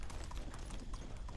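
Horse hooves clip-clopping in a quick, steady rhythm in the medieval video game Medieval Dynasty, close and fairly faint over a low rumble, no voices.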